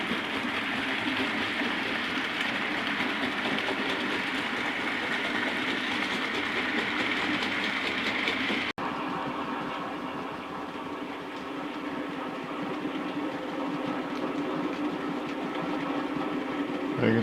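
A standard 4 tank steam locomotive passes as a steady, fairly faint rumble of rolling wagons and engine noise, continuing evenly and slightly easing after a brief break midway, with no speech.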